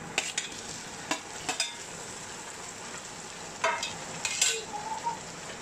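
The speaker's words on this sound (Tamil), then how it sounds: "இப்போ வெங்காயம் நல்ல ப்ரௌன் கலர் ஆயிட்டுது. நான் இனி தக்காளி ஆட் பண்ண போகிறேன்." Tomatoes go into browned onions frying in a pan, with a steady soft sizzle under a few quick metallic stirring clinks and scrapes, close by.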